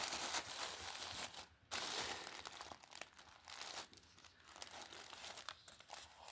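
A package being opened by hand, with close, quiet crinkling and tearing of paper wrapping in irregular bursts and a brief pause partway through.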